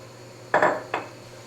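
A spoon stirring sugar into lemon jelly in a pot gives two quick clinking scrapes against the metal, close and fairly loud over quiet background hum.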